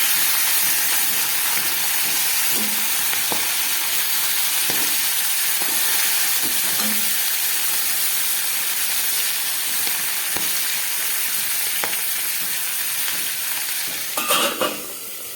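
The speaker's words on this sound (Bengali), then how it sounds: "একটা ঢাকা দিয়ে ভাজা করে দিচ্ছি।" Fish heads fry in a covered pan for a traditional Bengali chhyachra, giving a steady close sizzle and hiss with occasional soft clicks and a brief clatter near the end.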